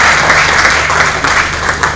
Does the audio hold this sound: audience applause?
yes